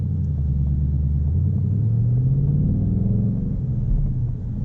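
Ford Mustang GT Bullitt V8 exhaust in track mode, a deep, steady rumble close by, rising and falling slightly in pitch as the car cruises.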